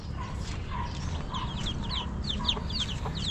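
A flock of chickens with many chicks, peeping and clucking on and off, several high chirps overlapping against a steady low rumble of background noise.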